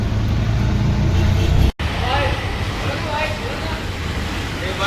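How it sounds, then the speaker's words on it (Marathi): An auto-rickshaw rides toward the airport with a steady, close engine drone and road rumble. Voices talk over it throughout. "आपण आता एअरपोर्टमध्ये चाललो रिक्षाने."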